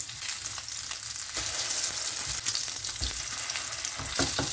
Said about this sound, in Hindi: कबाब को दोनों साइड से फ्राई करेंगे, साइड्स चेंज करेंगे कबाब की